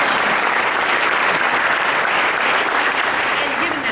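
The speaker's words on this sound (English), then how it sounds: "Well, please applaud that." Audience applause at a business convention panel in Los Angeles, a dense, even wash of clapping from a large crowd that stays loud and steady throughout, with faint voices underneath.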